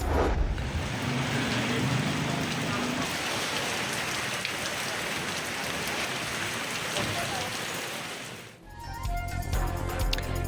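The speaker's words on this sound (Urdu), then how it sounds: "اسلام آباد میں تیز ہوا کے ساتھ ہلکی بارش، گرمی کا زور ٹوٹ گیا۔" Light rain blown by strong wind in Islamabad makes a steady dense hiss and patter for most of the time, then gives way to a different louder sound near the end.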